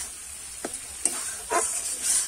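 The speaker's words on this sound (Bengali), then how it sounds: "আমি এইভাবে কষাতে থাকবো কিছুক্ষণ" A spatula scrapes and stirs sizzling masala in a pan for spinach paneer, a few distinct scraping strokes over a soft frying hiss, close by with no talking.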